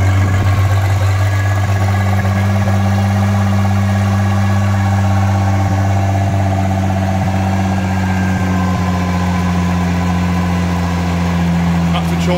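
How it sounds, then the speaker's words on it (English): A cold Bayliner boat engine idles on its automatic choke, a loud, steady, slightly lumpy hum that carries on throughout with no change in pace. "The engine is running on choke at the minute."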